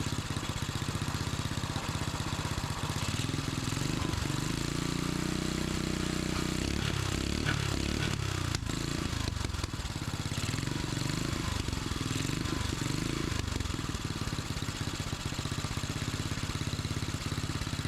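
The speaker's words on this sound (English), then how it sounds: "Seems to be a pretty solid little engine." A 5 hp Briggs and Stratton small gasoline engine runs steadily at idle, a low throbbing rumble with some mechanical clatter, close by and continuous throughout.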